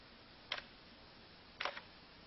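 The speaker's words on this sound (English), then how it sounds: "I can also take a look straight into the camera and use the camera shutter button." A camera shutter fires twice during tethered shooting to a computer in a dim room, two crisp, close clicks about a second apart over faint room hiss.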